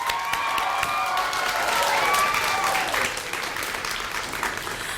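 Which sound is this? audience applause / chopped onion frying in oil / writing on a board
audience applause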